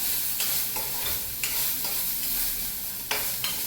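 Soya chunks (meal maker) frying in a pan, a steady close sizzle broken by several sharp scraping strokes as they are stirred.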